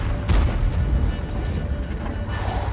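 A heavy artillery shell detonates with a deep boom early on in a World of Tanks battle, followed by rumbling debris and the continuing din of combat, close and loud.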